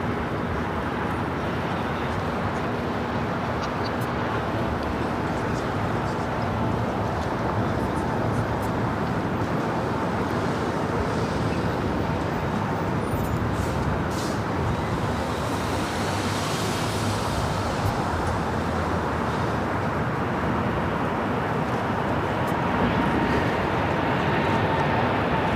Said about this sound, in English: Those are the sounds of the United Dreamliner spooling up and now rolling.